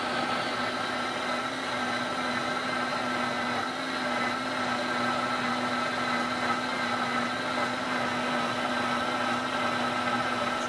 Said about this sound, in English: I'm just gonna blend on high for a second.